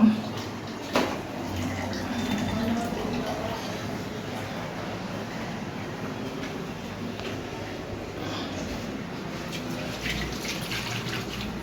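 Water splashing and running steadily onto a kitchen counter, a soft continuous wash with faint drips, no talking.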